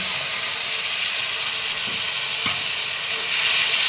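Tomato paste goes into a hot frying pan for a vegetarian taro curry, giving a steady, fairly loud sizzle and hiss with a faint stir or clatter partway through, and no talking.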